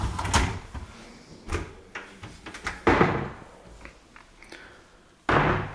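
Large sliding kitchen cabinet doors in a 1980s mansion, heard as several bumps and rolling slides. Distinct thuds mark each movement, with a longer rumbling glide midway and another sharp knock at the end, all close by and with no talk.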